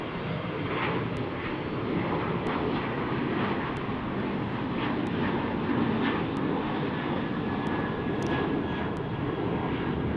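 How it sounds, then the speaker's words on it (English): A Boeing 737-700 jet departs with a steady, loud roar of engines holding across the whole stretch, broad and continuous with no talk over it. "737-700 departing right here."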